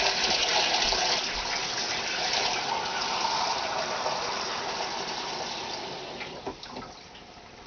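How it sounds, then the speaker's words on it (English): Hot water gushes steadily from a kitchen sink tap into a container filled to the brim, a continuous close rushing stream that lessens near the end. "I'm filling this right up to the brim because that would be about 2 1/2 cups"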